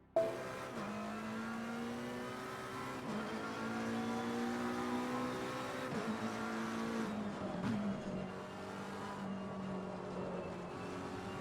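A racing car engine in a sim racing video game played with a Thrustmaster Openwheel add-on wheel whines and revs up and down through gear changes, a steady, close, tonal drone with no talking.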